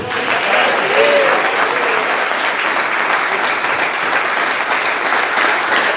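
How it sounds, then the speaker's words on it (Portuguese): A church congregation breaks into sustained applause for Jesus during a sermon, a full, even roar of clapping hands throughout, with a faint vocal cry surfacing briefly early on. "Salve de palmas para Jesus."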